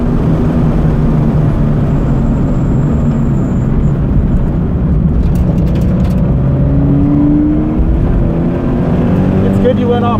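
A Subaru BRZ pulls off onto the Cayuga race track, its engine giving a loud, close, steady drone with a rising tone as it gains speed, wind and road noise beneath, while the people in the car talk over it.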